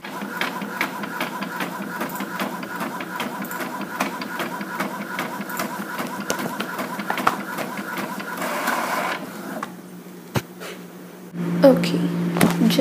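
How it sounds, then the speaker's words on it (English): A home printer runs pages for schoolwork, whirring and clicking in a steady mechanical rhythm close by, then stops. A brief clunk and other handling noises follow near the end. "just finished printing what I have to print for school"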